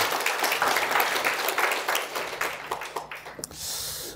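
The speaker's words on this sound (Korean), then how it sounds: "오늘 예배 가운데 함께 하시는 우리 하나님께 영광의 박수를 올려드리도록 하겠습니다." Congregation at a Korean church worship service claps together, a dense burst of applause that tapers and fades, followed by a short steady hiss.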